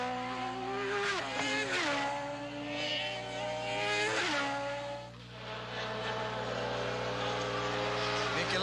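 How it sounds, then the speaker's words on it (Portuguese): A Formula 1 race car engine at the Brazilian Grand Prix screams at high revs, pitch climbing and dropping through gear changes as cars pass, loud and sustained under a commentator's talk. "Olha o ruído do motor."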